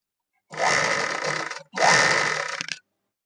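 Sewing machine stitching a fall onto a saree edge: two close, steady whirring runs of about a second each separated by a brief pause, then silence.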